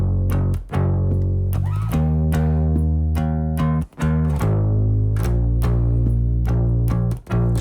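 Bass guitar plays a worship-song instrumental groove, steady low notes moving through the chord pattern with a quick passing chord, loud and close with brief gaps between phrases and no talking.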